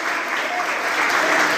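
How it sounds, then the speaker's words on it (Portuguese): A church congregation claps loudly at an evening worship service, a short burst of close, dense applause that builds slightly toward the end. "Você pode aplaudir o Senhor nessa noite."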